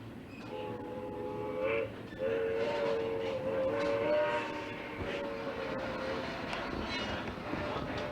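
An old train engine runs on rails a few cars ahead, its horn sounding in long sustained blasts over the steady rumble and clatter of the rolling cars, heard from on board.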